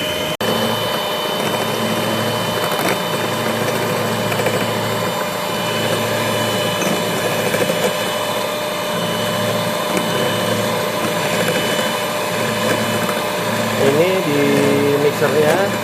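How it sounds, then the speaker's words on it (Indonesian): An electric hand mixer whips dalgona coffee in a bowl with a constant, fairly loud whirring drone throughout, while people talk over it. "Kita aduk aja pakai mixer nih biar kelihatan nih perubahannya ya."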